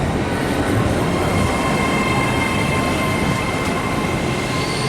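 An LNER passenger train runs through a station, its loud, continuous rolling rumble and faint wheel squeal heard from close by or on board, with no pauses.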